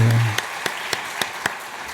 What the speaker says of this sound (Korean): 박수까지 나오십니다